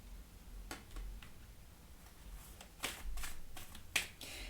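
An oracle card deck being shuffled and a card drawn: soft, quiet papery riffles and a few sharp flicks spaced over several seconds, with no voices.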